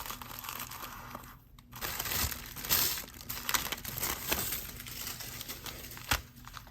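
Packaging of a Soft Flex Safari design-challenge bead kit is opened by hand with soft, close crinkling and rustling, a few sharper crackles and light clicks, and no talking.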